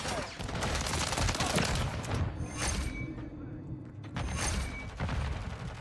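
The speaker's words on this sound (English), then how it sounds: "Quick reload." Weapon reload in Modern Warfare 3 gameplay, with mechanical clicks and ratcheting metal handling sounds mixed with bursts of distant gunfire, loud and close throughout.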